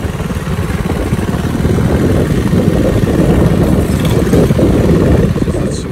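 A small motorbike loaded with a tent and a passenger rides along a countryside road, its engine a steady, close low rumble mixed with wind noise for the whole stretch, with no clear talk.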